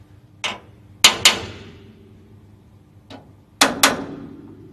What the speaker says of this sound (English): You use this testing hammer to hit the bolts and listen for any difference in sound.